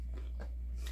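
Someone bites into crunchy dill pickles, and a few quick crisp crunches sound close up over a low steady hum.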